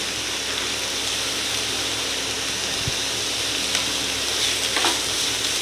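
Chopped onion and capsicum stir-fry for veg manchurian, a dense, even hiss of hot oil close by with faint scraping of a spatula and a few light clicks.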